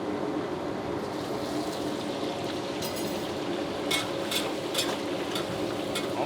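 Battered fried chicken re-frying in hot oil at a small food stall, a steady dense sizzle with occasional bubbling bursts and stirring, close and continuous with no talk.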